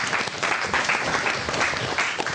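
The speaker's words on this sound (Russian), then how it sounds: "Ваши аплодисменты" A hall audience gives foreign medical students a round of applause, with thick, sustained clapping and a slight pulse to it.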